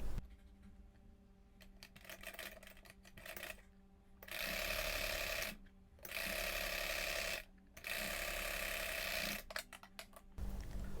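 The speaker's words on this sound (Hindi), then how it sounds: "अब इसको साइड से भी सिल देंगे।" A sewing machine stitching the side seam of a young girl's skirt top in three loud, steady bursts of rapid mechanical whirring, separated by brief pauses and quieter fabric handling, heard close with no talking.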